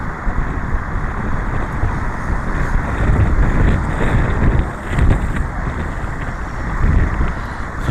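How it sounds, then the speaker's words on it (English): Strong gusty wind on a cruise ship deck roars and buffets the microphone continuously, with low rumbling noise throughout and brief surges in loudness. "It's a bit windy up there."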